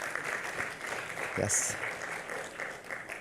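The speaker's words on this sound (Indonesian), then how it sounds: "Boleh tepuk tangan yang paling meriah" An audience applauds at an Indonesian awards gala for young influential figures under 40: sustained, fairly loud clapping as a voice speaks over it.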